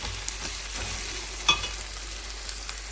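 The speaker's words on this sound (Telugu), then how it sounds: "ఇప్పుడు అరటికాయ ముక్కలు మనం ఇందులో వేసేసుకుందాం." Raw banana pieces frying in a pan, a constant close sizzle with a few soft stirring scrapes and one sharper clink of a utensil, no speech.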